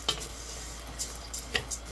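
Wild rice browning in a pot gives a soft, steady sizzle with a few sharp stirring clicks and scrapes scattered through it, close and fairly quiet, with no voices.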